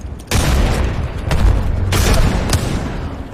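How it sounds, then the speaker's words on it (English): Grenade explosions in the game Apex Legends: a loud close boom followed by further blasts and rumbling bursts, dense and continuous with no talk over it. "I'm under fire. Grenade."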